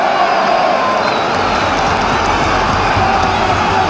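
Football crowd at a 1975/76 Stoke match, a sparse but vocal crowd giving a steady, loud roar of support with no clear breaks.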